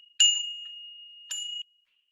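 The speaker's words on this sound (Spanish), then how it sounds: "¿Qué escucha si sueno esta campana de metal?" A metal bell struck twice, each a clear bright ring with a sharp onset that decays slowly, the second stroke shorter and cut off; no voices, fairly loud and close in a quiet room.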